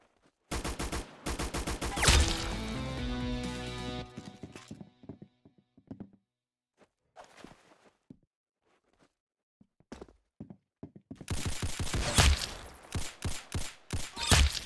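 Rapid bursts of gunfire from the Roblox game Arsenal, loud clustered shots at the start, scattered single pops through a quieter middle, then another dense volley near the end, with no talking.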